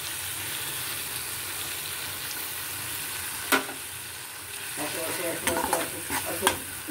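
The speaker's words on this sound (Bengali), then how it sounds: "এবার এটার সাথেও মশলাটাকে খুব ভালো করে মিশিয়ে নিতে হবে, কষিয়ে নিতে হবে" Poppy seed paste is stirred and fried with spices for a prawn and pointed gourd dish, a low steady sizzle broken by several close scraping and clattering stir strokes in the second half.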